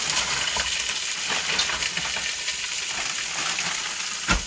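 Squid, shrimp and mussels fry in a pan with a dense, continuous hiss and crackle. A brief knock comes near the end.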